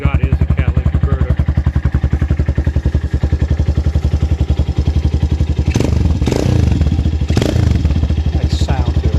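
A 2020 Venom Ghost 250 motorcycle with a straight-through exhaust, fiberglass packing and a catalytic converter idles loudly up close in a steady, rapid thump, with a few brief blips of the throttle and some clatter.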